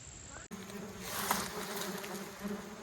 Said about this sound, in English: it's aerial yellowjacket nest in here